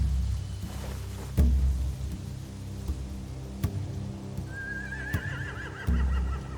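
Horses neigh and whinny in The Walking Dead: The Final Season game, one long wavering whinny rising out of a low ambient rumble with a few soft thumps, moderately distant.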